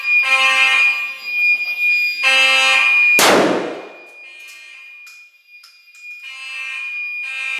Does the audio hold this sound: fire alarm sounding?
yes